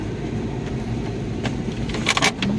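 A jeep rolls slowly along a mountain forest path with a steady low engine rumble, and scattered knocks and rattles of the vehicle bouncing grow busier toward the end.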